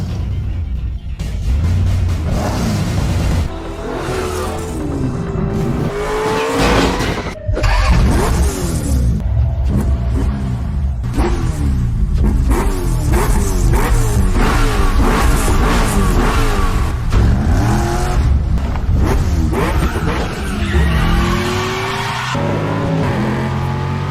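A BMW M3 GTR race car in the game Need for Speed Most Wanted, with a flat-plane V8, revs hard through repeated gear shifts, roaring loud and close alongside tire squeals and skids for the whole stretch.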